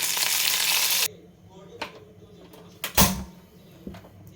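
Cumin seeds and curry leaves hit hot ghee with a loud, hissing sizzle that cuts off after about a second, followed by scattered clicks and a sharp clatter of utensils against the pan.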